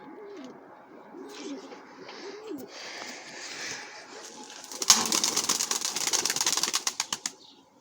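Efe pigeons in Kayseri give soft, close, rolling coos, then a burst of loud rapid wing flapping takes over and fades out as they fly.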